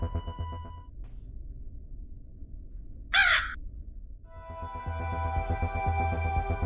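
A crow in the Granny video game gives one short, harsh caw in the middle, loud and close, between stretches of droning game music.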